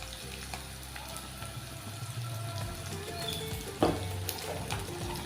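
Curry leaves and asafoetida sizzling in hot oil for lemon rice, a steady crackling fry with scattered pops and a brief louder spatter near the end, close and fairly quiet.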